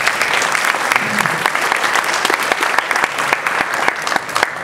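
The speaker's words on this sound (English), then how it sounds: "give the governor and the legislature a round of applause for that" An audience claps steadily for several seconds, a full, sustained wash of applause with sharp individual claps standing out and no one speaking over it.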